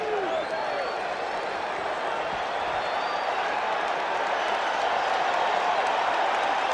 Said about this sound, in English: Boy, this crowd came here to make some noise tonight.